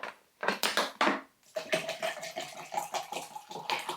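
Drinking water is poured into a container in short, gurgling bursts with a clinking of vessels, close by and quiet, with brief pauses between pours.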